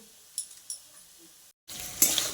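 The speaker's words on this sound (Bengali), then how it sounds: "এখন পনেরগুলো ভেজে নিচ্ছি" Paneer pieces fry in a pan with a steady sizzle that swells loud after a short silence. Before that there are only a few faint clinks and stirring sounds.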